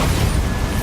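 A Bombarda blasting spell explodes in the video game Hogwarts Legacy, a very short, loud, heavy boom with a thick low rumble filling under a second.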